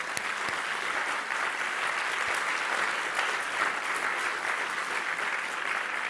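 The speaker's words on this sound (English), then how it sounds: "Can you hear the applause?" Sustained applause from an online conference audience, a dense even wash of clapping that runs steadily without pause.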